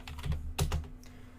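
A few quick keystrokes tap on a computer keyboard as a command is typed in, soft and close, in a short burst of irregular clicks with no voices.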